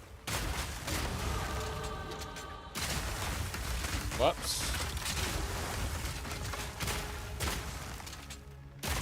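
Explosions and bursts of spell effects in the action RPG Path of Exile 2, with dense booming impacts running continuously under game music and a voice.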